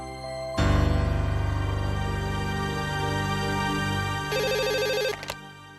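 A telephone rings loudly and close, a continuous warbling electronic tone that lasts several seconds. Near the end it switches to a brighter, higher trilling pattern and then cuts off abruptly, with no speech.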